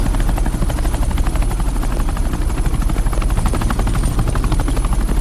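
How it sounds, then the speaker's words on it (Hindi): A helicopter flies close and loud, its rotor producing a steady rapid chopping throb that stays constant throughout, with no talking. "ये हेलीकॉप्टर सीधे एयरपोर्ट के टारमैक पे लैंड होगा।"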